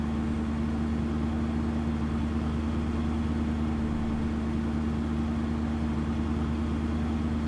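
A muddy tractor idles in Farming Simulator 15 on the Sherwood Park map, a steady low droning engine hum with a constant pitch that runs unchanged throughout, close and moderately loud, with no talking.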